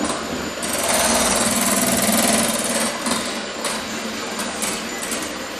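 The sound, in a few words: mixer beating eight egg whites to stiff peaks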